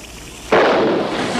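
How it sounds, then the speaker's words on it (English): A sudden loud explosion in a comedy set on a navy island base, a sharp onset at about half a second followed by a sustained roaring, crackling burst that fills the rest of the clip. "what was that explosion?"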